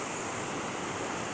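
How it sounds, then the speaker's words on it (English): Floodwater pouring out of a road drain pipe across a flooded road six to eight inches deep, a steady broadband rush like a small waterfall, close and unbroken. "There is 6 to 8 inches of water I'm standing in"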